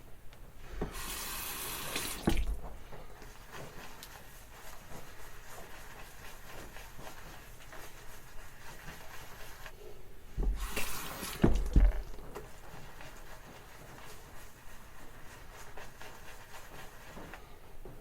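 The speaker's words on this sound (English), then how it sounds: "Just adding water till I feel like there's enough in this soap" Water running from a tap while water is added to a tobacco-scented shaving soap, a steady hiss with two louder bursts of flow, close and without speech.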